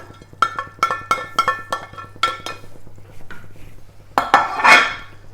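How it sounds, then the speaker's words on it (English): Mince is scraped into a cooking pot for cottage pie, with a spoon striking the pot in a quick run of sharp metallic clinks and knocks, then a louder clatter and scrape of stirring at close range; no talking. "So just scrape that in there."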